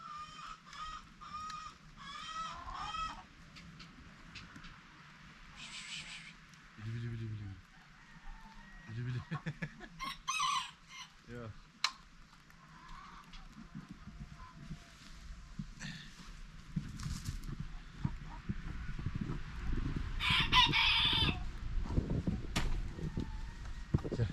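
Hens clucking and squawking in bursts alongside a few crowing calls, with a person talking intermittently and some outdoor rustling and shuffling in snow.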